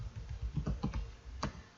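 Close keystrokes on a computer keyboard while entering a Google search, an irregular run of clicky taps, some quick clusters and a distinct final tap, with no talking.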